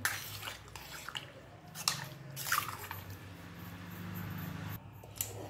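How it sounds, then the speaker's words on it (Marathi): Soaked dal is stirred around in water, giving wet squelching swishes and sloshes in uneven bursts with short quiet gaps, close by and fairly soft. "हे पाणी आता यामध्ये टाकून घ्यायचं आहे व ही डाळ आपल्याला सगळीकडून हलवून घ्यायची आहे"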